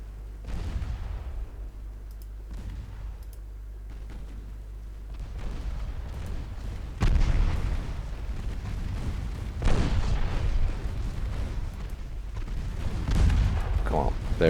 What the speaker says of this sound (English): Got a torpedo detonation